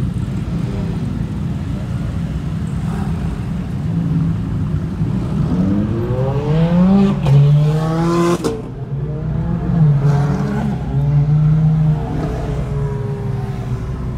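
Supercars, including Pagani and Koenigsegg models, arrive and queue at a car meet, engines rumbling nearby with several rising and falling revs as cars creep forward one after another.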